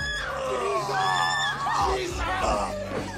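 Two girls scream as zombies break through a window into a house, with loud, close, sustained high-pitched shrieks and yells rising and falling over about three seconds.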